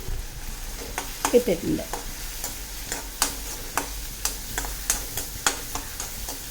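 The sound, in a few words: onions with turmeric being sautéed and stirred in a pan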